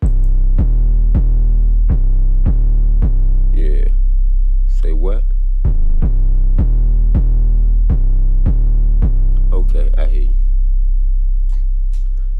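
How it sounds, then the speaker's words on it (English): A deep booming Roland TR-808 bass pattern, programmed in FL Studio, repeats steadily with punchy kicks, and a few short spoken phrases break in over the beat. "And this is the 808 we used."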